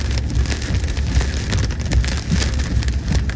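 Steady rain falls with no voices, a continuous broad hiss of drops hitting surfaces at an even level throughout.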